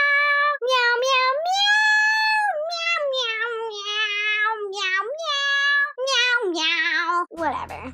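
A human voice imitating a cat, making a long run of sung, drawn-out meows with sliding pitch, close and clear, ending in a brief rough noise.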